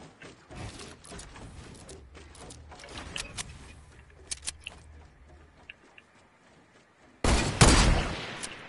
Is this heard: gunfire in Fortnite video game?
yes